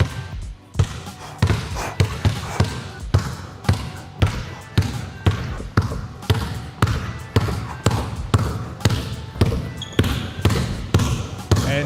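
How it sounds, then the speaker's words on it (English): A basketball is dribbled continuously, including behind the back, with steady, evenly spaced thumps roughly twice a second. The bounces are close and prominent, with faint speech in the background. "I'm not big on doing long sessions of dribbling the ball."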